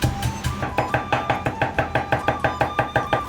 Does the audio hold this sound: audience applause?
no